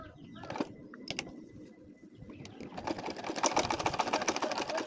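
A sewing machine stitches an art-pattern nakshi kantha quilt, starting with a few short bursts and then settling into a steady, rapid, close stitching run that grows louder toward the end.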